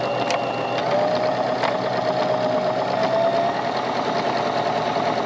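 Sewing machine running a straight seam across fabric, a steady continuous mechanical whir with fast rhythmic stitching, close and fairly loud throughout with no talking.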